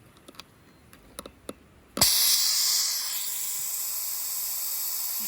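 Air hissing out of a leaky tire valve on a 1989 Cummins truck, a sudden loud burst that settles into a steady close hiss, after a few light metallic clicks and taps.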